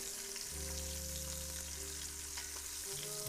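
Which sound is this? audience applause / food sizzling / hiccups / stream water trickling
food sizzling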